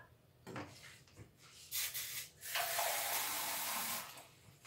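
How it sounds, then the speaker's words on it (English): Water pours into a cooking pot on high heat in a home kitchen while taro is being prepared, several short splashy bursts then a longer steady pour, close and fairly quiet. "Meanwhile, in this pot, to hasten things up, I'm going to add some water."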